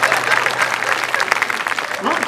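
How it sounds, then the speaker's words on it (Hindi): An audience at a Hindi comedy poetry show claps warmly, a steady patter of applause heard under a man's continuing speech. "एक बार जरा जोरदार ताली बजाए इसकी समझदारी पे।"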